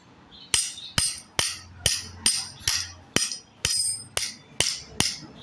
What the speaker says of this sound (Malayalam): ഇത് അത്യാവശ്യം നല്ല ഹെവി ആയിട്ടുള്ള ഒരു സ്ക്രൂ ഡ്രൈവറാണ് ടൂളാണ് കേട്ടോ അത്യാവശ്യം ഹെവിയാണ് അപ്പോൾ ഇത് വെച്ചൊന്ന് കൊടുത്ത് നോക്കാം